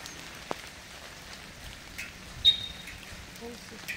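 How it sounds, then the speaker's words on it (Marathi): Light, steady rain patters in the background over a misty hillside, with faint, scattered drips and a few soft clicks, fairly quiet overall. "आणि कंटिन्यू आता पाऊस चालू आहे"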